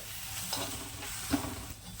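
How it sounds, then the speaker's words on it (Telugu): Peanuts coated in chili powder being stirred in a dry pan over low heat, with no oil: a continuous scraping and rustling, with a few sharper scrapes of the spoon against the pan, close and alone. "అడుగు భాగం నుంచి కలుపుతూనే ఉండాలి"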